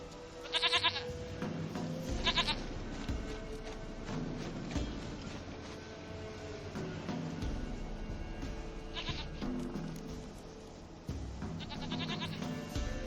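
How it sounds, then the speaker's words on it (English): Goats bleat in bursts in The Witcher 3, several distinct calls spread over a quiet, faint ambient game soundscape. "Goat of mine, dearest, sweetest goat."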